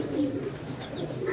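Teddy pigeons cooing in a short, soft, rolling burst, close by and steady over a faint background hum, with no talking.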